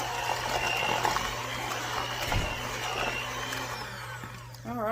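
An electric hand mixer whirs steadily up close as it beats mashed potatoes with partly melted butter, a constant motor drone with slight shifts in pitch as the beaters move, briefly dipping near the end.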